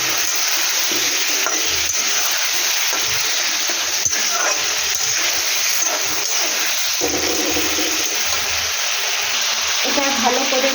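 Chicken with chilli and turmeric powder stirred in a sizzling pan, a constant frying hiss broken by repeated scrapes and clinks of a spatula, with faint background sounds mixed in.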